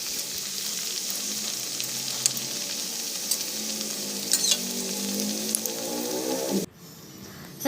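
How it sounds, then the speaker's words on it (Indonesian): Tofu and vegetable pastel pastries frying in hot oil, a continuous bubbling sizzle with occasional sharp crackles and pops, ending in a sudden drop to quiet. "Lalu aku lanjut menggoreng pastel babak kedua, dan yang babak kedua ini pastinya minyaknya sudah semakin panas."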